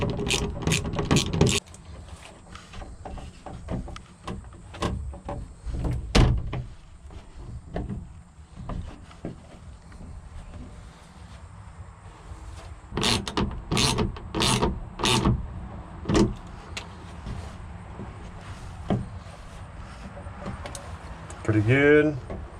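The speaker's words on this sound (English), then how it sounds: "I'm gonna go around to each window and just tighten these window hinges." Ratcheting clicks and mechanical turning bursts come from window hinges being tightened around an enclosed hunting box blind, in quick clustered series with pauses, close and fairly loud, with a person talking in between.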